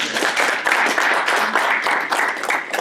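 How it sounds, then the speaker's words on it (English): Audience applause for newly inducted Mu Alpha Theta members at a Horn Lake High School ceremony: a steady, dense wash of clapping from a crowd, fairly close and even throughout, with no talk over it. "One more round of applause for"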